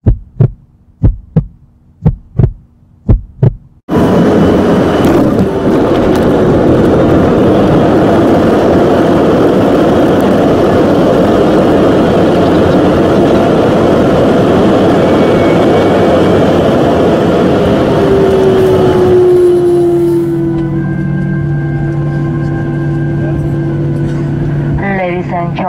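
Cabin of a landed airliner taxiing at Perth: a loud, steady engine roar and rumble carries on for a long stretch, then a quieter whine follows, with a few sharp thumps at the start.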